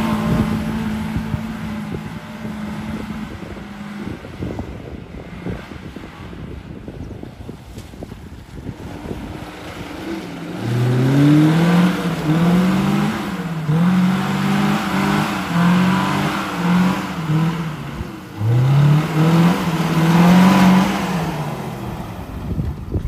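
A Maruti Gypsy off-roader ploughs through mud. Wind buffets the microphone at first, then the engine revs loudly in repeated rising surges, each climbing and dropping as the wheels churn.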